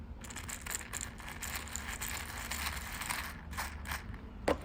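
Dense, continuous rattling of many small white wax-seal beads shaken together, soft and muted, with a slight clatter near the end.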